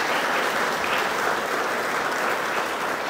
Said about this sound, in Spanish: vamos a dar un aplauso a los que trabajaron arreglando el techo